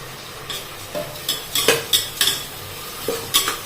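Washed rice goes into a pot of spiced pulao base and is stirred, giving a series of sharp scraping clinks from a spoon against the pot over a steady soft sizzle.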